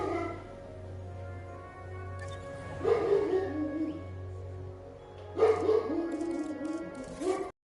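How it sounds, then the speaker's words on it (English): A dog gives two bursts of whining, yelping barks at moderate distance over a steady low electronic hum, in a room during a live session of the dinosaur park game Jurassic World Evolution 3. "Why is my dog barking?"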